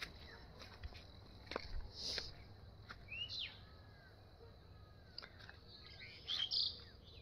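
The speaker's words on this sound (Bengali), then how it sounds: "যেমন এই যে পাখিগুলো ডাকছে" Birds call around a village at dawn: scattered short chirps and a few brighter whistled calls, faint to moderate and spread out over quiet background hiss.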